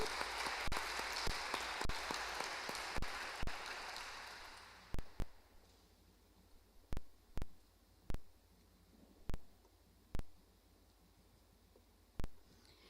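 Applause at a school class night award presentation, a burst of crowd clapping that dies away into a few scattered, isolated claps in a quiet room.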